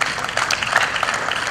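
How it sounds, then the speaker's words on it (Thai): Crowd applause for tennis players at a professional tennis tournament, a short burst of dense clapping that holds steady for about a second and a half. "ขอเสียงปรบมือให้กับนักกีฬาอีกครั้งหนึ่งครับ"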